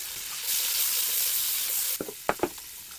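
Onion and celery hit hot bacon fat with a loud, close sizzle for about two seconds, then a few stirring scrapes and clacks follow.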